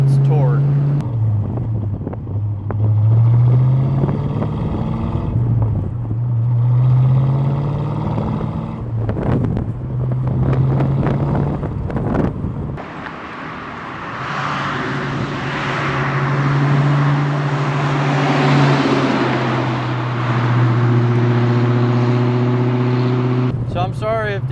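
A Fox Body Ford Mustang engine rumbles and revs through repeated climbs while driving, with heavy wind buffeting the microphone throughout and a deep steady drone later on.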